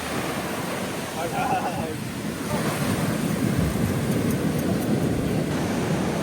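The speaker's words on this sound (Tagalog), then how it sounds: "sobrang lakas ng hangin. Yan, lakas ng alon" Strong wind and rough waves at the Agos River in General Nakar, a heavy surging roar with gusts buffeting the microphone, and faint talking partly buried under the noise.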